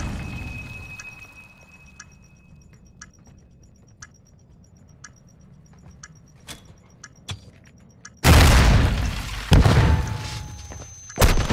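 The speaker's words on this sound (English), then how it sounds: "Stand by to detonate." Detonation in Call of Duty: Modern Warfare 2, a sudden loud broadband blast near the end after quiet ticking game sounds, followed by a second heavy burst and rumbling debris.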